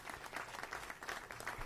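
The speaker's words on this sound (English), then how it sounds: "Just a round of applause." Applause from an audience at a public transit launch event for tap-to-pay fare payment, a short burst of steady clapping at moderate distance with no talk over it.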